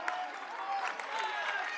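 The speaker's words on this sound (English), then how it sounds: "And the crowd goes crazy" Crowd in a high school gym roaring and cheering at a volleyball match, a dense excited mass of voices and some clapping filling the hall for a couple of seconds.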